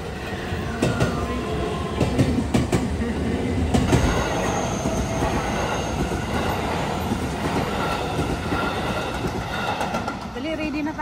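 A train passes through a railway station in Japan, its steady rumble and rail noise filling the scene up close with brief wheel squeals, while people talk nearby.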